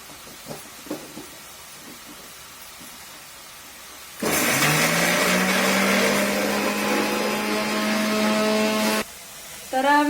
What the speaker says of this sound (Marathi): आता मसाला काढून घेणार आहे एकदा लसूण आणि मिरच्या काढणार आहे